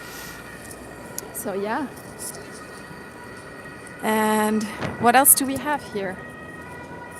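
Emergency vehicle sirens wail at a busy central crossing in Vienna, a short rising-falling wail early on, then louder overlapping siren tones later, with city traffic noise beneath and a person talking in between.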